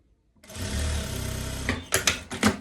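A sewing machine stitches a short seam on a blouse, a fast even mechanical rattle for about a second and a half, followed by a few quick louder clunks and taps as the fabric is handled; nobody speaks.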